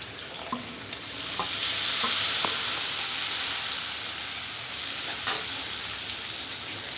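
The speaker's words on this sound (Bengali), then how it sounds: "টমেটো পেস্টটা দেওয়ার পর একটু ভালো করে কষে নিতে হবে" Tomato paste cooks down with spices in hot oil, giving a continuous close sizzle that swells and hisses louder before settling, with occasional light taps of a stirring spoon.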